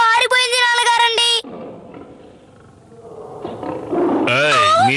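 Tigers roaring in a cartoon: a loud harmonic cry opens, then rough low growling rumbles on for a few seconds before a second wavering, sliding roar rises loudly at the close.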